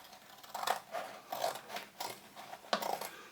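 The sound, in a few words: scissors cutting old dry leather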